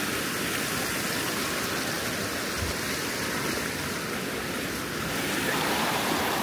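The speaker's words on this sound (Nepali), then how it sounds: "म चाहिँ यहाँबाट खोला तरेर जान्छु" A mountain stream rushing over rocks, a loud continuous broadband wash of flowing water with no voices.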